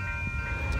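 A Union Pacific freight train approaches near Prescott, a continuous low rumble carrying a steady, sustained horn-like tone through the whole short moment.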